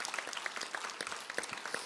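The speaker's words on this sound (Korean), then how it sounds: "우리 뜨거운 박수로 우리 서로를 격려하고 감사를 표했으면" A church congregation applauds together during a Sunday service, a faint, distant patter of many hands clapping steadily for a couple of seconds.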